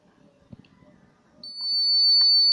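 A steady high-pitched electronic buzz from a conductivity tester dipped in sodium chloride solution starts midway and holds loud to the end, after some quiet handling noises.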